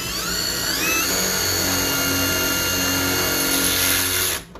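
A power drill with a bit fitted runs at a steady high whine, loud and close, holding its pitch for several seconds before cutting off abruptly at the end.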